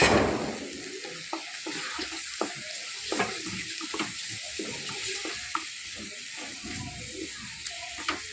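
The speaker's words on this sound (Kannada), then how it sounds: "ಇವಾಗ ನಾನು 2 ಚಕ್ಕೆ, 4 ಲವಂಗ, 4 ಏಲಕ್ಕಿ ತಗೊಂಡಿದ್ದೇನೆ. ಹಾಕುವ," Two cinnamon sticks, four cloves and four cardamom pods fry in hot oil for a restaurant-style chicken tikka masala, giving a steady soft sizzle with scattered small pops and clinks throughout.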